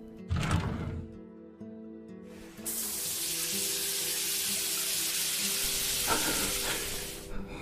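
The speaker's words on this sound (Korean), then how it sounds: "이거 씻는 소리 아니야?" Water runs steadily from a shower, a continuous hissing spray that starts after a few brief clatters and splashes and carries on evenly to the end, with no talking.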